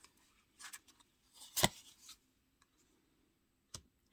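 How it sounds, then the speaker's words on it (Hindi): Tarot cards are shuffled and drawn from a deck in a quiet room, giving soft papery rubs and a sharper slide near the middle, followed by a faint flick later. "कार्ड निकालते हैं"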